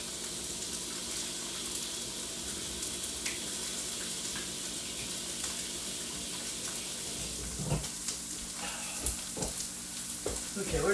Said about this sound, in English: And we're going to brown that sausage.